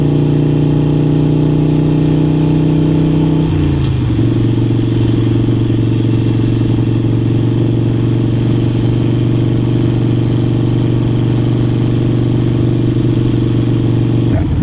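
A motorcycle engine drones loudly and steadily up close while the rider speeds up through a turn, the pitch dropping at a shift partway through, then holding a constant hum.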